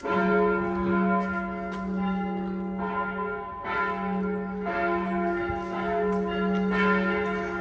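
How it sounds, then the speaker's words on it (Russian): Church bells ring out steadily in a side street in Novi Sad, Serbia, layered tones with repeated strikes sustaining throughout, moderately near with open outdoor ambience. "Вот, слышите, колокольный звон уже."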